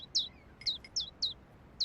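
Small birds give quick, bright chirps, five sharp calls spaced in an uneven rhythm over a low background hiss, close and fairly clear.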